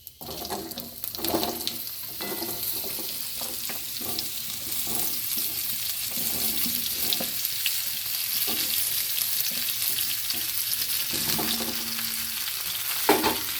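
Mixed vegetables for Bengali shukto fry on a low flame in oil with panch phoron and a bay leaf. They are stirred continuously, with a steady close sizzle broken by repeated scraping strokes of the spatula. No one speaks.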